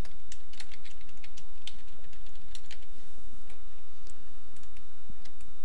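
Fast, steady keystrokes clatter on a computer keyboard, close and crisp, with irregular clicking taps over a constant background hum and no talking.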